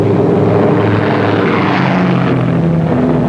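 A Douglas A-20 aircraft takes off, its piston engines and propellers droning loudly and steadily with a rising, shifting pitch as the plane accelerates, close and without speech.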